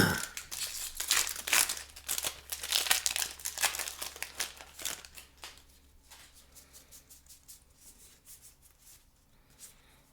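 A Time Spiral Remastered Magic: The Gathering booster pack wrapper crinkles and tears open, a dense burst of close, loud crackling for several seconds that thins into softer scattered rustles.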